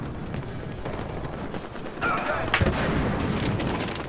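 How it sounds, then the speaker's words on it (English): Gunfire in the video game Battlefield Hardline: dense, continuous shooting and bursts under a loud, busy game mix, with a sharper cluster of shots midway and no clear talk. "They're shooting me from behind."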